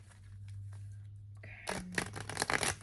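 A card is drawn from an oracle deck, heard as a close, quick burst of shuffling and papery flicking after a quiet low hum, with no talk.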